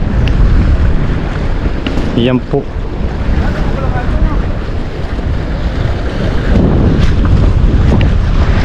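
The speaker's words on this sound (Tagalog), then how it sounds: "Medyo malakas nga lang po ang hangin." Strong wind buffets the microphone against a background of high-tide surf at the shore, with brief Tagalog speech in the middle and a short exclamation.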